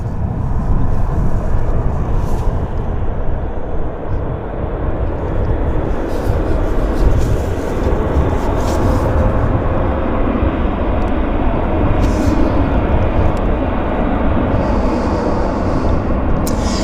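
Boeing 737-700 airliner on a wet runway at Vancouver YVR, a loud, steady broadband jet roar with a hissing spray edge that continues unbroken and fairly close throughout.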